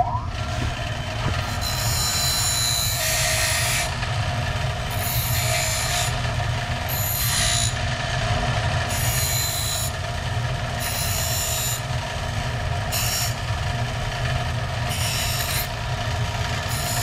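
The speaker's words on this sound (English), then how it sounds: "let me get the burrs off the outside first" Loud, steady grinding with rasping bursts as burrs are taken off the outside of a Pypes exhaust pipe on a 1972 Dodge Challenger, running continuously for the whole stretch, with no talk.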